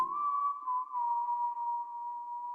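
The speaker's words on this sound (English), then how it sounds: "I basically whistled into the microphone." A sustained, steady whistled tone held at a single pitch for a couple of seconds, clean and close, with no talking.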